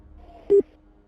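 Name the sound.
phone call dialing that fails to connect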